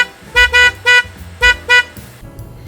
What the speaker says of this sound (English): it is one of the cutest sounding horns that you will ever hear in any car